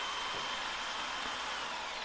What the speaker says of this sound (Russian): Для сверления рамы я использую сделанную мной магнитную стойку для дрели.